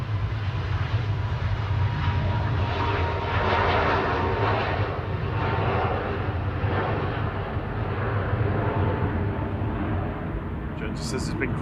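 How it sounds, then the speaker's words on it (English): A Ryanair Boeing 737 Max 8 jet bound for Plovdiv takes off from Manchester Airport, its steady, loud engine roar holding throughout with a broad rumble, and a voice talks over it for much of the time. "Next departure on the roll, Ryanair 1704 to Plovdiv in Bulgaria, Max 8"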